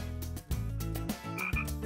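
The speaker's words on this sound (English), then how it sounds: "or this little frog" A frog croaks in loud, deep, rhythmic pulses, close and clear, with several croaks in quick succession and no speech.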